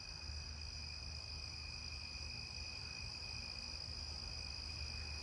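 Narrow-winged tree crickets chirping in a neighbourhood at night, a steady high-pitched continuous trill held at an even level throughout, faint and somewhat distant, with no voices.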